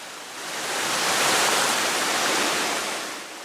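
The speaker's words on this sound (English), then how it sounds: "go right to the first tier of this two-tier waterfall" A two-tier waterfall on Balsam Mountain in the Great Smoky Mountains roars with a dense, rushing wash of water that rises to a fuller peak midway and eases slightly at the end.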